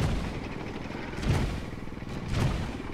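Tank cannon fire in World of Tanks, with dense rumbling battle noise throughout and two heavier booming shots standing out at about one-second intervals.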